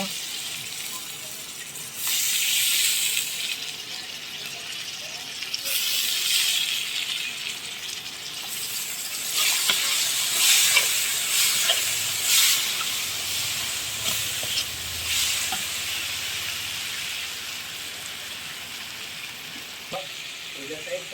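Liver fries in a pan as it is stirred, giving a moderate, continuous hiss and sizzle with occasional brighter bursts and light scraping, steady and fairly close throughout.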